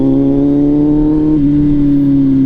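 A motorcycle engine held in low gear on a ride, a loud, close, steady droning rev that dips slightly in pitch partway through and then holds, with no talking.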